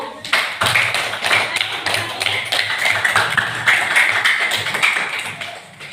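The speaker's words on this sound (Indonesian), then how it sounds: "Tepuk tangan dulu untuk kelompok satu." Classroom applause for the first student group after their presentation, a brisk, fairly close patter of many hands clapping that holds steadily for several seconds.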